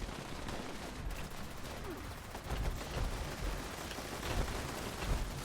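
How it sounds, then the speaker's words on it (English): Automatic turrets open fire in the Fallout 76 video game, a fairly faint, distant clatter of rapid shots and thumping blasts running throughout under a busy battle din. "I hear my turrets going off"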